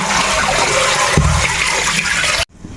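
Pamullan fish being rinsed in water for a curry: a loud, steady rush and splash of pouring water close by, with a brief heavier slosh midway, then an abrupt cutoff into quiet.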